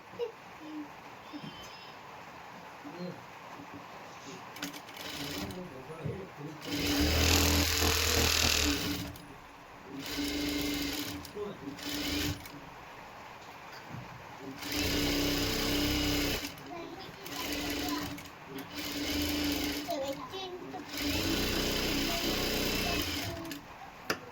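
A sewing machine stitches lining cloth onto a princess blouse in bursts of rapid mechanical whirring, several runs starting and stopping, close and loud, with someone talking between them.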